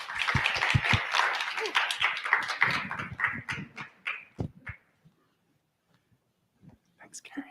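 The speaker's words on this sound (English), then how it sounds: "Round of applause" Audience applause at the close of a conference panel session, dense clapping for about four seconds that thins out and stops, then near silence with a few faint stray sounds.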